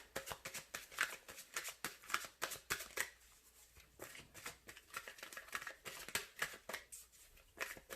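Denise Lynn's Gateway Oracle cards are shuffled by hand in quick rustling, flapping riffles, a close rapid patter of soft bursts with brief pauses and no speech.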